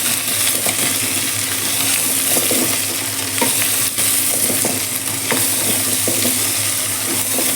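Moringa drumstick pieces are stirred in a hot pan for sambar, with a loud, continuous close sizzle overlaid by frequent small scraping clicks from the spoon.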